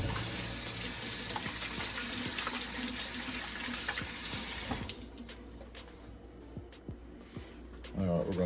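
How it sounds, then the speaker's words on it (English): A kitchen tap runs steadily for about five seconds while someone washes their hands, then shuts off, leaving only quieter room noise. "Let's wash our hands first."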